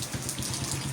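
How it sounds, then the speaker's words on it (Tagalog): Steady rain patters and hisses continuously, a soft, even wash of falling water at a moderate distance. "Bugnaw ang kabuntagon kay ni ulan."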